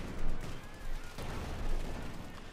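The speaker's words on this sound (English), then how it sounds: "Good hit there with the anti-tank gun." Anti-tank gun firing in Company of Heroes 2 on a noisy battlefield: a few heavy, muffled blasts that swell and fade amid constant rumbling combat noise.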